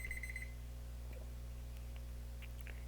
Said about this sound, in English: And that is our timer.